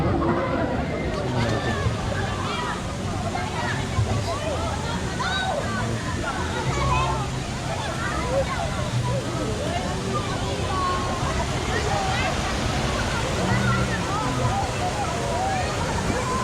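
Steady rushing roar of river water pouring at a crowded waterfall bathing spot at Tangke in Juban, Sorsogon, with splashing and a busy babble of bathers' voices mixed in throughout.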